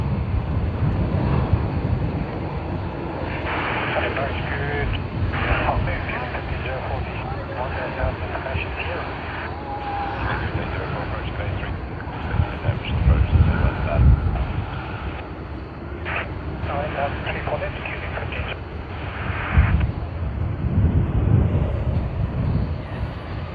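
An aircraft in Pride livery at Sydney Airport gives a steady, broad jet roar that swells and fades through the whole stretch, mixed with wind, while someone talks over it.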